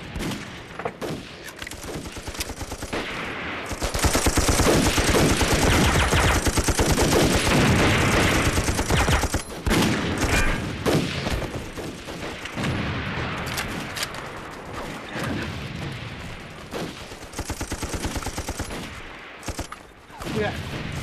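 Dense, sustained gunfire and machine gun bursts in a Chinese war film sniper battle between Japanese and Communist troops, loud and continuous with heavy booming stretches and brief dips.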